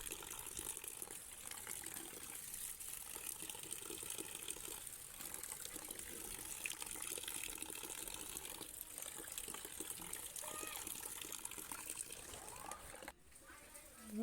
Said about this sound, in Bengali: তো আমি ভালোভাবে ধুয়ে নিচ্ছি